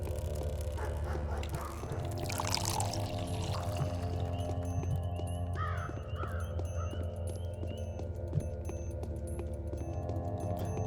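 Water poured in the game Pathologic, a steady splashing stream that runs for several seconds under a low ambient hum, with brief high chirps partway through.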